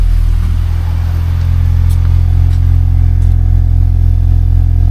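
A Mini engine idles steadily with a deep, rumbling exhaust drone, loud and close, holding constant throughout with a faint rattle on top.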